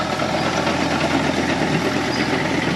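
A Caterpillar D2 or D4 crawler tractor's diesel engine runs close by, a steady, dense rumbling clatter that holds an even level throughout with no talk.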